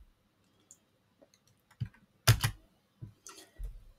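Quiet, sparse keystrokes on a computer keyboard while a formula is typed, a few soft isolated clicks followed by a short cluster of louder taps, close and with no talking.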